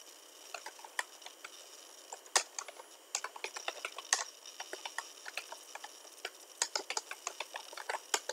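Fingers type data on a computer keyboard, irregular quick clicks and clacks in bursts with occasional louder key presses, close and alone without any talk.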